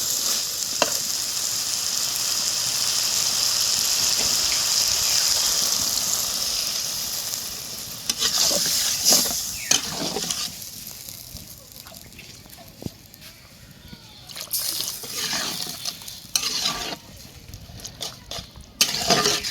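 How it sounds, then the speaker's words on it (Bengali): Water poured into a pan of dried beef and potato curry meets a loud, hissing sizzle that fills the first half, then dies down into quieter bubbling with occasional stirring clatter. "এখন আমি পানি দিয়ে দেব"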